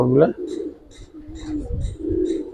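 Silver coloring pigeons cooing in a loft, several short soft coos in a row, close and clear, with someone talking alongside.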